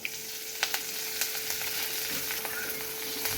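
Mustard seeds, cumin, curry leaves and chillies sizzle in hot oil, a steady close frying hiss with scattered sharp pops and crackles throughout, no voices.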